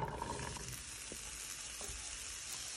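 Spring onions and green peppers sizzle quietly in a hot wok, a soft steady hiss with a louder stir-like burst at the start.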